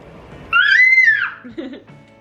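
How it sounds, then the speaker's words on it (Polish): A young child lets out a single high, sustained scream lasting about a second, loud and close, followed by a short lower vocal sound. "Kto tu tak krzyczy?"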